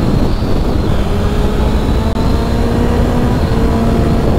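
Suzuki GSX-S 1000 GT motorcycle from 2022 held in fourth gear on a climbing, winding road, giving a steady loud engine drone mixed with heavy wind rush, continuous throughout with no talking.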